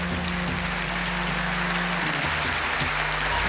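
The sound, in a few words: audience applause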